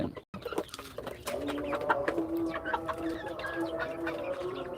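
Two-month-old broiler chickens clucking in a poultry shed, a steady chorus of close calls after a brief pause, with a voice speaking over them.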